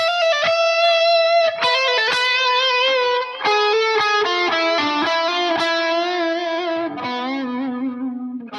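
Electric guitar with distortion and effects plays Phrygian mode scale licks, a loud, continuous run of sustained, bending notes moving steadily downward with a few quick picked transitions.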